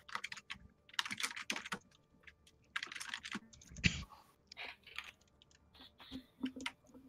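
Quiet bursts of computer keyboard typing, clusters of quick clicky keystrokes separated by short pauses, close and fairly soft with a few faint background voices.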